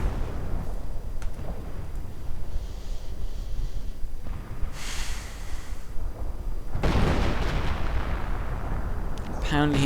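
Artillery shells firing and landing in a Company of Heroes multiplayer match, a loud continuous rumble of booms and blasts with a sharp crackling burst near the end.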